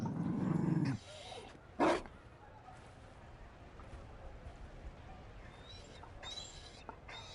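Mabari war dog in Dragon Age Inquisition giving a low, close growling bark, followed by a short sharp yelp, then quiet ambient background.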